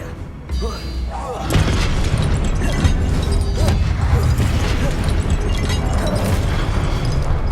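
Repeated spell blasts from the Hogwarts Legacy video game, including the Confringo blasting spell, hitting statues: a continuous dense barrage of booms and crashes that stays loud and packed throughout, with a voice calling out over the action.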